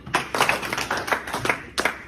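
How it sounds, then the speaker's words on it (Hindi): An audience at a Hindi talk on everyday conduct claps in a ragged series of about seven short, sharp bursts, each one quick and bright, with brief gaps between them and no talking over it. "तो क्या सिर्फ एक बार ताली बजा सकते हैं?"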